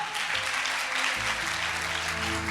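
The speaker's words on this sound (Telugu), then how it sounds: "ఒకసారి వీళ్ళిద్దరికి గట్టిగా చప్పట్లు కొట్టండి." A church congregation claps loudly and continuously through the whole stretch, a dense wash of applause with faint low tones beneath and no clear speech.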